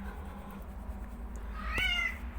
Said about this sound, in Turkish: İşte kendini köpek sanan kedi.